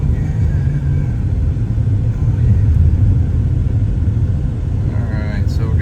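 A 2002 Honda Accord on the road, steady low engine and road rumble heard from inside the cabin, continuous and fairly loud throughout.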